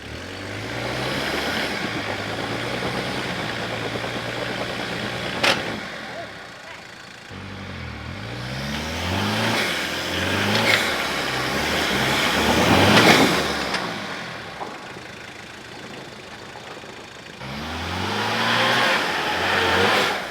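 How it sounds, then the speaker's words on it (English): Grinding drivetrain noise from a 4WD truck on a remote high-country hill climb, heard over a loud engine revving and accelerating in repeated pulls, with pauses between efforts. "a grinding noise coming from the driveline"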